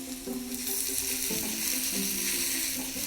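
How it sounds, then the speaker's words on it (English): Chicken pieces frying in hot coconut oil with browning onion give a loud, steady sizzle that crackles continuously from start to end, with no voices. "in goes the chicken"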